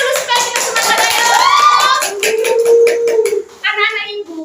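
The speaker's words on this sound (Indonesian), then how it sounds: "Ayo tepuk tangan dulu supaya kita semangat, ayo." Children in a classroom clapping their hands together along with the teacher, brisk rhythmic claps under chanting voices that continue with a short pause near the end.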